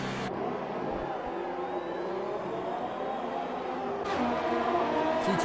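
Ferrari Formula 1 race cars in an F1 2018 race roar past with a steady high-pitched engine whine, louder and closer toward the end, no talk.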